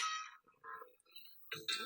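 A mobile phone alert or ringtone goes off during public comment at a county council meeting: faint electronic tone bursts at the start and end, with a quiet gap between them.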